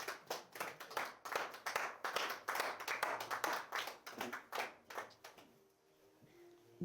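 A church congregation claps together to acclaim the word of God, a brisk run of sharp, fairly close hand claps that thins out and stops near the end, followed by near quiet.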